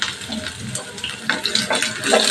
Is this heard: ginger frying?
yes